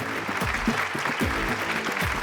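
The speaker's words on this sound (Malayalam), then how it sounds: "കയ്യടി കുറവാണ്." Studio audience clapping on a Malayalam TV game show, a thin, steady patter of hand claps running the whole time at moderate loudness, with no one talking over it.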